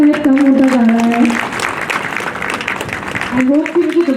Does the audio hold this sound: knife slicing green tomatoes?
no